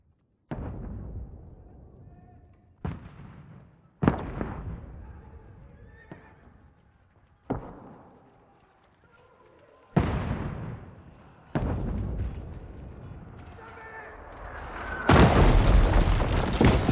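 Heavy weapons firing in a video game, about seven loud booming blasts spaced a second or two apart, each decaying slowly, the last ones fuller and closer, with faint game sounds between.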